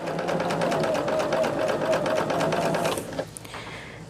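A sewing machine stitches quilt patches on a quarter-inch seam, running as a fast, steady, close mechanical hum with rapid needle clatter for about three seconds before stopping, followed by faint handling noises.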